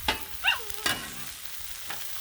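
Vegetables sizzle on a Blackstone flat-top griddle: a faint, steady hiss with a few short scraping and stirring clicks and a brief squeak, with no voices.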